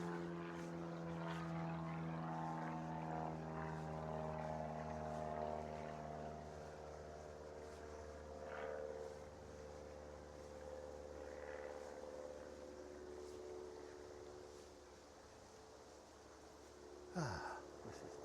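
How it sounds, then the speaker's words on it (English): A light aircraft drones steadily overhead during a countryside walk near Christleton, Chester, a faint continuous propeller hum that slowly fades with distance, with no talk. "Light aircraft."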